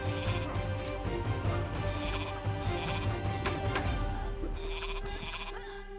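Horse cavalry in Age of Mythology neighs over a dense, continuous clatter of galloping hooves, battle noise and game music, with repeated whinnies layered throughout.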